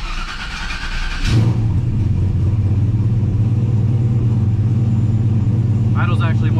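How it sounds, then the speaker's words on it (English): A turbocharged Chevrolet Silverado engine on Holley EFI catches after a quiet moment, then settles into a loud, close, steady lumpy idle, with brief talk near the end. "Idle's actually more stable than I was expecting."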